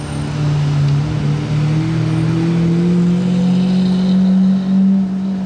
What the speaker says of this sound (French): Échappement